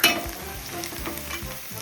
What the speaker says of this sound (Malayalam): നമ്മുടെ സവാള കളർ മാറി തുടങ്ങി, ബ്രൗണിഷായി.